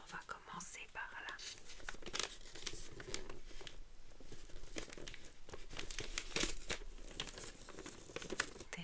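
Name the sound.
wrapping paper crinkling as a gift box is opened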